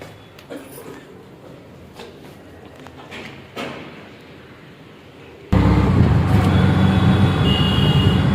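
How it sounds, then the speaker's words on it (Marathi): An auto-rickshaw heads to the station through road traffic. Quiet rattles and clicks come first, then a loud, steady rumble of engine and road noise takes over abruptly, with no talking. "आता आम्ही निघालोय रिक्षातून स्टेशनला."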